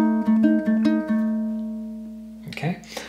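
Ukulele playing measure 24 of a song, a handful of plucked notes in a steady rhythm ringing out and decaying, followed by a voice starting to speak.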